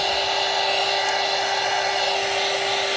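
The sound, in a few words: dryer drying acrylic ink on a gelli plate print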